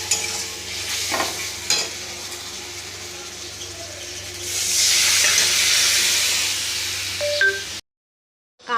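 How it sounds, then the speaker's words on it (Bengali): Boiled whole lentils go into a hot pan already seasoned with turmeric and are stirred, giving a close, steady sizzle and scraping that swells into a loud hissing burst midway before cutting off abruptly. "এবার দিয়ে দেবো এর মধ্যে ডাল।"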